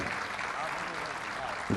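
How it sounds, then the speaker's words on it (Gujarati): An audience at a festival program gives a sustained round of applause, a dense, even clatter of many clapping hands with a voice heard over it, swelling slightly at the very end. "જોરદાર તાળીના આગળથી અમને વધાવો."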